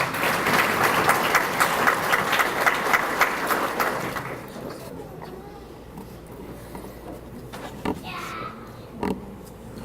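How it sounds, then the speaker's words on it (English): Banquet crowd claps for a scholarship winner, a dense round of applause that stops abruptly after about four seconds, leaving room noise with scattered voices and a few knocks. "Give Kaya a round of applause, please"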